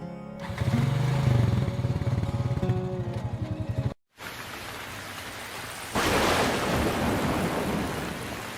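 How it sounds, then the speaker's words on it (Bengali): Rain falls steadily with rolling thunder in a storm, a dense continuous wash that briefly cuts out, then returns and swells louder toward the end. "দেখো বাইরে কেমন বৃষ্টি হচ্ছে আর মেঘ ডাকছে"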